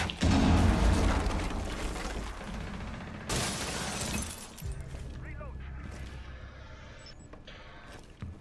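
A breach charge blows open a hatch in Rainbow Six Siege with a loud, close explosive blast and debris shatter, a second burst following, then gunfire and game noise trailing off.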